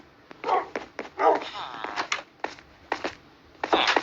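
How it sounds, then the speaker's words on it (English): Dogs in Minecraft give a series of short, sharp barks and yips in irregular bursts, moderately loud, with brief pauses between. "More dogs, more dogs."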